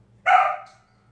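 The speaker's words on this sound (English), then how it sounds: "Milo says hello. Actually, Milo really wants to go play with the neighbor dog, Morgan." A pet dog gives one loud, close, sharp bark that fades quickly into a quiet room with a low steady hum.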